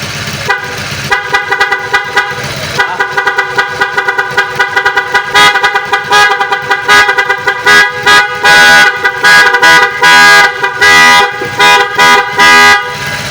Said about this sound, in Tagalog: Tetestingin natin busina ni sir